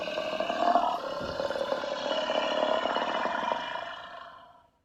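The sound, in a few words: lion roaring, sound effect in a narrated story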